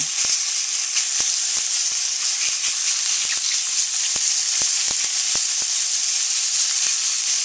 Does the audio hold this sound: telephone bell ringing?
no